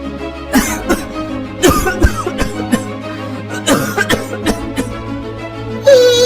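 A cartoon character coughs in a few harsh bursts with throat-clearing sounds, loud and close, over a steady low background tone.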